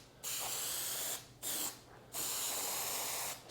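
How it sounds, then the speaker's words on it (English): Trimtex spray adhesive sprayed from an aerosol can onto plastic drywall corner bead, three loud, steady hissing bursts separated by short pauses, heard close up with no talking. "So I'm using this regular Trimtex spray adhesive."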